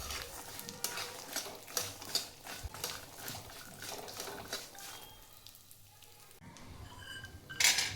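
Sesame seeds roasting in ghee in a home kitchen pan for ladoos, with a soft continuous sizzle under repeated scraping and stirring strokes, close and moderately quiet, and a sharper clink near the end.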